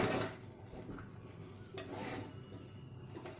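Moong dal halwa paste is stirred in a pan over low heat, soft scraping and thick shuffling with a faint sizzle, close and quiet, no voices.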